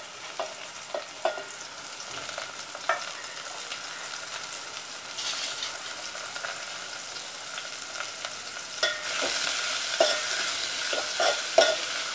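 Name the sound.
cooking onion, tomato and asafoetida in a pan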